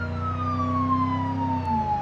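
Police car siren in the driving game BeamNG.Drive, a steady wailing tone gliding slowly downward in pitch over a low engine hum, loud and continuous with no speech.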